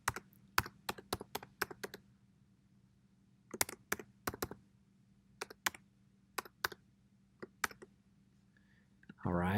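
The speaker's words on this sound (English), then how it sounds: "I'm going to go ahead and type it in." Keys on a computer keyboard clack in short uneven bursts as a password is typed, crisp and close in a quiet room, with pauses between groups and a brief rustle at the end.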